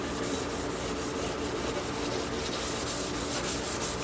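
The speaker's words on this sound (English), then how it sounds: "we're going to clean it up a little and file the burr on the edge because it's got one" A hand file rasps back and forth in steady, even strokes across the edge of a McCulloch chainsaw bar, taking off a burr in a continuous scraping rhythm at close range with no talking.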